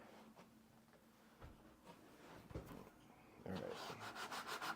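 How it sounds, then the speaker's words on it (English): Sandpaper rubbed gently over a white hat, giving soft scratchy strokes that grow louder and denser toward the end, with a brief spoken remark near the start. "It's a white hat, so I want to sand down with some like cleaner sandpaper."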